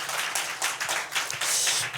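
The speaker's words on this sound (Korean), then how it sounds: "크게 한번 박수 한번 올려드리겠습니다" A church congregation at a New Year's Eve worship service claps loudly together, the individual hand strikes audible in a dense, uneven rhythm that swells toward the end.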